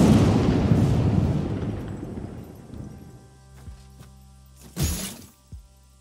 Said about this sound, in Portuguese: A explosão, sei lá o quê. Do fogo do inferno.